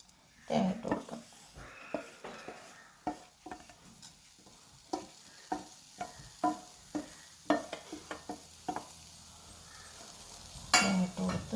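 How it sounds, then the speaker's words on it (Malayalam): Grated coconut is stirred and scraped in a hot pan for a Kerala thiyal, with repeated sharp clinks and scrapes of a spoon against the metal at an uneven rhythm over a faint, low sizzle. "അപ്പം ചൂടായി തേങ്ങ ഇട്ട് കൊടുക്കാം"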